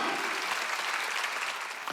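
A burst of clapping from a church congregation during a worship service, steady and full for a couple of seconds before tapering slightly at the end.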